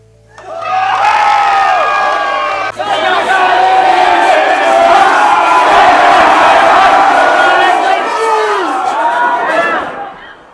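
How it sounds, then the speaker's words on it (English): A large crowd roaring and chanting "God save the Duke" outside Westminster Palace, a loud, continuous wall of massed voices that swells in and holds steady for about ten seconds before fading. "Crowds of people gathered, continuously roaring, God save the Duke!"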